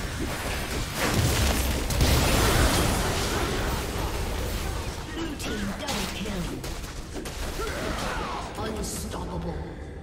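In a League of Legends match, a turret is destroyed with deep booming explosive rumbles and whooshes that swell loudly, then settle into a busy wash of combat effects while an announcer's voice speaks over them.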